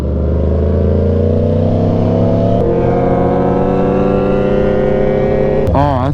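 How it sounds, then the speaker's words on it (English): Motorcycles riding by in Florida: a loud, close engine drone with shifting harmonic pitch, a brief change partway through, and another bike's pitch sweeping past near the end. "Oh, that is hundreds of bikes right here."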